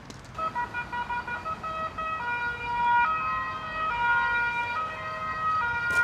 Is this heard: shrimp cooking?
no